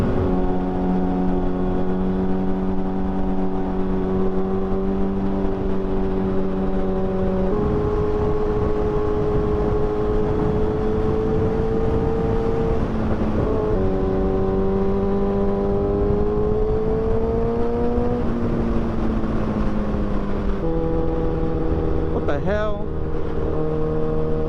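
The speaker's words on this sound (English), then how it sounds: "we're gonna be taking a little ride with the ZX-10" Kawasaki ZX-10 supersport motorcycle riding on Florida roads, a loud steady engine drone throughout that shifts pitch at gear changes with wind rush, close up and continuous.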